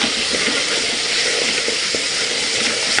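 Ginger garlic paste with chili powder sizzles and crackles in hot oil while cooking a goat leg curry, a loud, continuous close-up frying hiss with small popping bursts and no voices.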